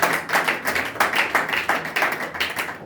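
A church congregation claps together in a steady, rhythmic beat, the applause close and continuous without any speech over it.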